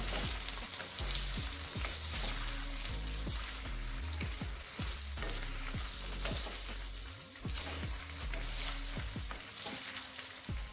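Mixed vegetables for pickle frying in a pan, giving a steady loud sizzle throughout with frequent clinks and scrapes of a stirring spoon.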